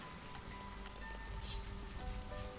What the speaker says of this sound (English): Thankfully, it is still raining from 4.